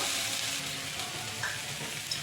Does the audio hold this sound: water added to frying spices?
yes